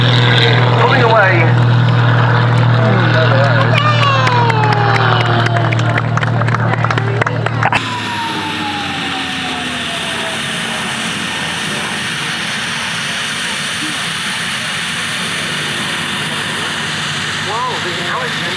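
A Mustang fighter pulls away at an airshow. Its engine roars loudly, then drops off sharply into a steady distant drone as it recedes, with no talk over it.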